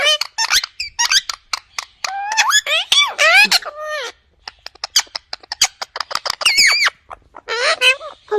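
A pet parrot lets out rapid squeaks, chirps and whistled calls in quick bursts, loud and close, with short pauses between phrases.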